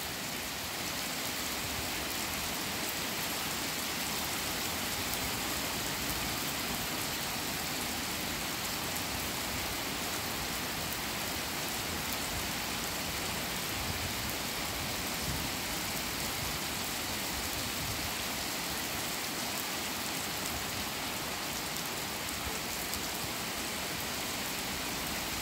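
Steady, dense rain pours down during a spring thunderstorm in Meyzieu, France, making a continuous hiss that stays even and unbroken throughout, with no thunder or voices standing out.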